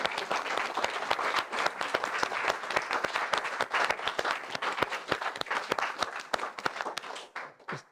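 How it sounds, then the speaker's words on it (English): An audience gives a round of applause for Ken, with steady, close, crisp hand claps lasting several seconds before trailing off into a few scattered claps. "I think he deserves a round of applause."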